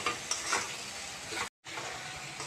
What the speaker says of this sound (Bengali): এখন আমি 2 চামচ টমেটো বাটা দেব। এটাকে মশলার সাথে ভালোভাবে মিশিয়ে একটু নাড়াচাড়া করে নেব